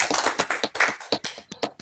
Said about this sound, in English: I guess a round of applause.